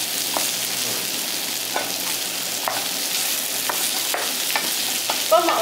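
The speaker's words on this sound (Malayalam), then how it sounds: "നന്നായിട്ട് ഇളക്കി കൊടുക്കുക." Spices with homemade garam masala and coriander powder sizzling in a pan for a potato and tomato curry, a continuous close frying hiss with regular soft scraping strokes of a spoon, no talking.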